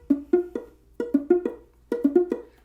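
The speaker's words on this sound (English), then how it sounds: "if you're getting sort of a muted sound like this" Ukulele chords strummed with the strings not pressed down hard enough give short, dull, muted plucks in quick groups, each dying away almost at once, played alone up close.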